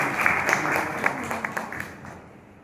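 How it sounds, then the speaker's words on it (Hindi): Staff at a school retirement farewell ceremony give the principal a round of applause: steady, crowded clapping with scattered sharp claps, tapering off toward the end, with some talk mixed in. "एक बार जोरदार तालियां बजाएं प्राचार्य जी"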